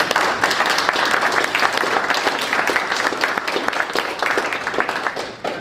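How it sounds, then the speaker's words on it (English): Audience applause at a July NRC meeting, greeting visiting scholars and future conservation leaders: dense, steady clapping from a sizable crowd, loud and continuous throughout, tapering only at the very end, with no talk over it. "We should give these folks a round of applause."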